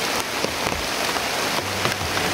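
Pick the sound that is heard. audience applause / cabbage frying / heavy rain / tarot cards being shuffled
heavy rain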